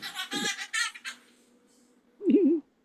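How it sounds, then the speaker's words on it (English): A parrot lets out a short, warbling squawk after a burst of giggly, chattering vocal sounds, close and fairly loud against a quiet room. "Have you been teaching that parrot Ukrainian?"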